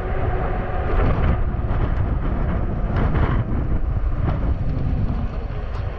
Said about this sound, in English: Yeah, there's always a lot of wind